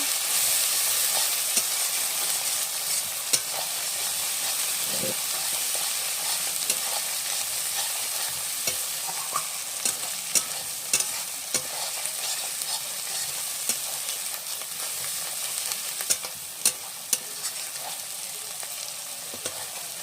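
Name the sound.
stirring spiced chicken with kachu in pan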